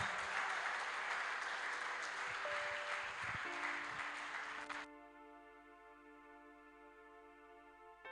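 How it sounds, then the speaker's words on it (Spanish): A church congregation gives a loud round of applause welcoming the preacher Ramiro, a dense clapping wash that stops abruptly and gives way to steady sustained tones. "Lo recibimos con un fuerte aplauso"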